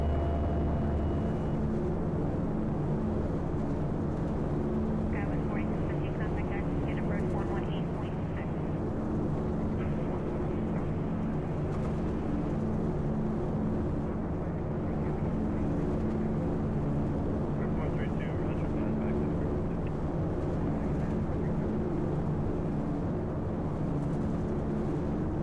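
Douglas DC-3 engines droning in flight in X-Plane 11, a loud, steady low rumble that fills the whole stretch, with a few faint higher tones over it.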